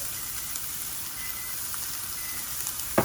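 Onions seasoned with salt and pepper cook in a pan, giving a steady close sizzle throughout, with a brief louder clatter near the end.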